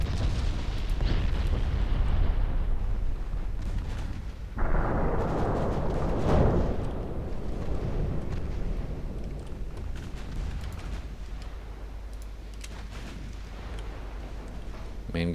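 Warship main guns firing in Ultimate Admiral Dreadnoughts, with a loud booming salvo that rolls into a long rumbling blast before fading to a steady low battle roar, and a voice speaking briefly over it.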